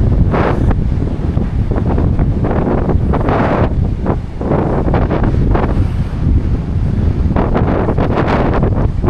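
Strong surf pounds the shore at the Kapurpurawan rock formations while heavy wind buffets the microphone, a loud, continuous roar with surging swells and no voices.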